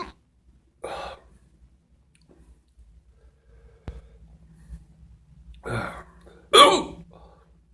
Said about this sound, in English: When I get the real loud, violent hiccups, it's pretty hot.